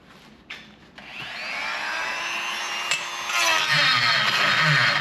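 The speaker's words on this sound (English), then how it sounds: "to grind this out just so I've got a flat that I can adequately tighten the nut down on" A handheld Dremel rotary tool grinds down metal to cut a flat for tightening a nut, a steady high whine that starts after a couple of brief knocks and grows slightly louder and rougher toward the end, close up.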